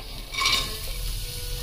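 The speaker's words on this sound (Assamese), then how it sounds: "এইখিনি অকণমান ঘি তেনেকৈ ভাজি ল'ম" A spoonful of ghee sizzles in a pan as food fries in it, a steady close hiss with a brief louder burst early on.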